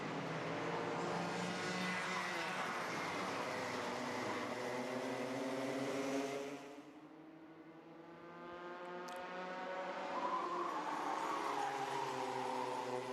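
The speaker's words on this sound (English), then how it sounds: "As they absolutely chuck the karts in to turn 8" Several racing karts roar hard into a corner at a Kandava circuit, a dense multi-engine drone that dips briefly as they brake into the turn, then swells again as the pack accelerates away, loud and close.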